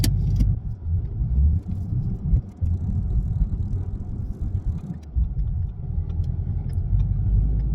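A Ford Mustang GT (S550) drives along, its engine a steady low rumble with road noise throughout, close and continuous with no talking.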